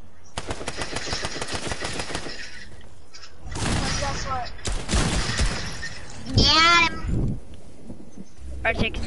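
Several sharp, loud shotgun blasts in the Fortnite video game, spaced apart among other in-game effects and brief gaps of quiet.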